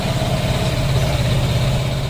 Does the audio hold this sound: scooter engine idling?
yes